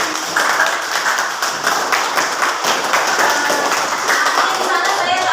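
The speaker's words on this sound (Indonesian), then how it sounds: "tepuk tangan" Clapping hands in a classroom for a student after she draws a linear inequality graph, a steady dense patter of claps that fills the whole stretch, fairly loud and close.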